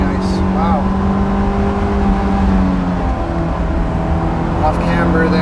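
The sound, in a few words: Honda S2000 engine revving at about 7,000 RPM in fourth gear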